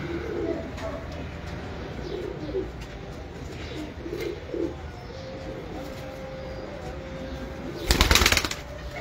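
Domestic pigeons in a home loft coo in soft, repeated low rolls against steady background noise, with a brief burst of wing flapping or clatter near the end.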